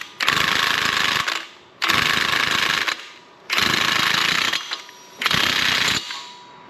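Power tool hammering in four long bursts, each a second or more, with short pauses between, running a Ford wheel axle nut on during a wheel bearing job. Loud, close and harsh, with no talk.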